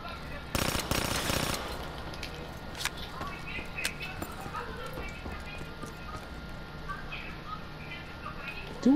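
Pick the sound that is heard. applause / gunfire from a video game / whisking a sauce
gunfire from a video game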